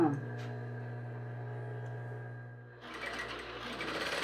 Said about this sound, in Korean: 80이 넘은 나이에도 재봉틀을 돌리는 어머니.